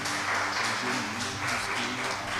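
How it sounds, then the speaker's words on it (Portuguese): Congregation clapping in a church worship service held in a garage, welcoming a sister to the front; dense continuous applause with a soft hum beneath. "Vamos aplaudir a Jesus mais uma vez e receber a nossa irmã?"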